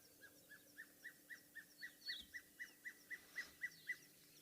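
A pale chanting goshawk, a bird of prey, calling at sunrise on safari: a steady series of about fifteen evenly spaced, piping notes that grow slightly louder toward the end, heard at moderate distance over a quiet background.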